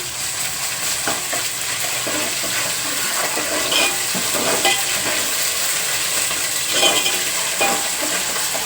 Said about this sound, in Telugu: మనం దీంట్లోనే అల్లం వెల్లుల్లిపాయ పేస్ట్ కూడా వేసి వేయించేస్తాం